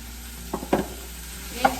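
Ground beef dropped into a hot pan with softened onions, a few sharp stirring scrapes and a soft sizzle, close and fairly loud over a steady background hum.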